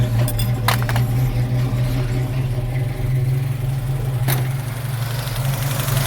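A 1966 Mustang engine idles with its carburetor needing adjustment, a steady low droning rumble that runs close and loud throughout, with a couple of brief clicks or rattles, and no talk.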